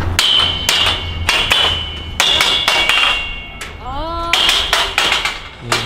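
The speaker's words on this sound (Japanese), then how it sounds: "全部叩いてから抜いていくんですよ" A steel hammer striking scaffolding fittings and handrails to loosen them for removal on a construction site, giving sharp, loud, ringing metallic clangs in irregular bursts, with people talking in between.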